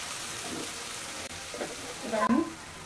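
Ground coriander, cumin, turmeric and chili powder fry in hot oil with a soft, steady sizzle, rising into a brighter crackle near the end, heard close up without talk.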